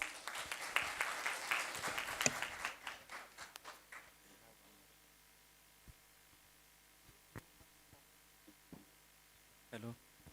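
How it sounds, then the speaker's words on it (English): Audience applause at a grand finale team presentation event, fairly loud dense clapping for the first four seconds, then fading out to a quiet room with a few scattered knocks and rustles. "A huge round of applause."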